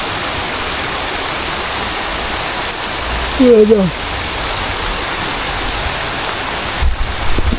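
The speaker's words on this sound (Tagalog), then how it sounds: "Tignan nyo yung ulan." Heavy rain pours steadily as a dense, loud hiss throughout, with a brief voice cutting in near the middle.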